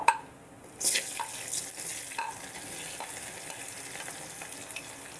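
Thinly sliced onion drops into a pan while making foxtail millet pongal, with a couple of sharp clatters followed by a soft, steady close-up frying hiss.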